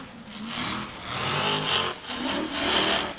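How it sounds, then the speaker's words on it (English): A rear-engine race vehicle at a National Rough Riders Association Mickey Thompson finals off-road event at MidAmerica Outdoors revs its exhaust in rising and falling surges, a loud, rough roar with no talking. "That exhaust sounds incredible."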